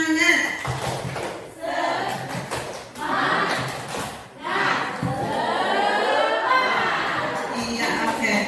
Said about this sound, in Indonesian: Oke, tepuk semangat.